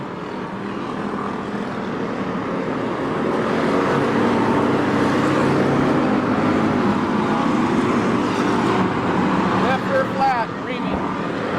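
Stock cars race on the oval at Porterville, a loud continuous roar of engines swelling as cars sweep past, with a race commentator talking over the noise.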